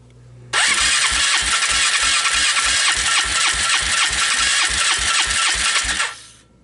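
A Polaris Trail Boss 325 ATV engine cranks over on half choke, its rapid, loud starter-driven chugging pulsing steadily for about five and a half seconds before cutting off, with no voices.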